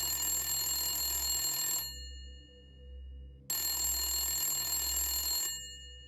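A telephone bell rings out in two long bright bursts with a short silent gap between them, close and loud against a low background hum.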